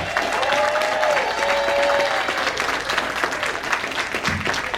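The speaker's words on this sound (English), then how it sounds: "Ladies and gentlemen, please give it up for Nick D" Applause from a comedy club audience as a New York comedian is introduced onto the stage, steady and dense clapping with a few cheers running throughout.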